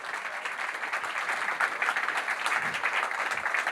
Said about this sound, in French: merci d'applaudir Soraya Jaber et Jean-Baptiste Kempf